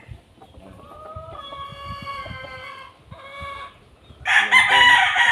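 A Golden Boy Sweater gamefowl rooster crows close by in a long, loud, wavering call that breaks off mid-crow, then resumes; a harsh burst of noise ends it, and there is no talk.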